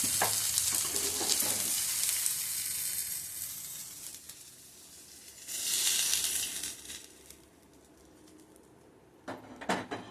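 Kerala-style masala fish fry sizzling in a pan, a soft crackling hiss that swells and fades as the fish is moved, with a few sharp clinks near the end.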